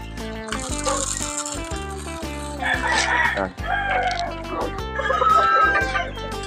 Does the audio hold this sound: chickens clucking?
yes